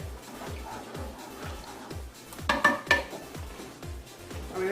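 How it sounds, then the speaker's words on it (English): Jelly stirred into rice in a pot, with a steady run of soft scraping knocks from a spoon against the pot, then a few sharper clinks and a brief surge of louder clatter. "Now we add in the jelly. Just give it a quick stir."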